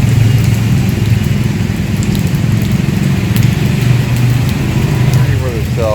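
Steady rain falls in Butuan City, a dense continuous hiss over a low rumble from passing road traffic, with scattered drop impacts throughout.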